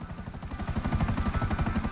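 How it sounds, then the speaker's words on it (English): A helicopter in Grand Theft Auto V flies along with a steady, fast rotor thump and a turbine whine, loud and continuous, with no voices. "It's not my favorite helicopter, that's for sure."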